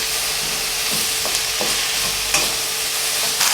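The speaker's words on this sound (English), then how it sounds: "We've added the tofu to the pan and the oregano, soy sauce." Tofu and vegetables sizzling in a pan with oregano and soy sauce, a constant loud hiss of frying with a few soft stirring scrapes and clinks, no voices.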